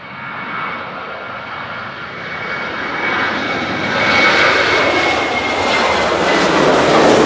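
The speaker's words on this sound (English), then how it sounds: "KLM 1036 to Amsterdam 737-800" A KLM Boeing 737-800 jet airliner at Manchester Airport roars past, its loud engine noise with a thin whine building steadily and rising in pitch as it comes closer, with no voices.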